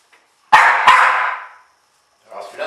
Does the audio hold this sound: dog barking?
yes